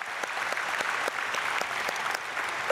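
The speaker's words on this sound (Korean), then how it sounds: "우리 박수로 축복하겠습니다." A congregation at a Saturday dawn prayer service at Myungsung Church in Korea claps as a blessing. The applause is steady and sustained at a moderate level, with individual claps standing out within the crowd.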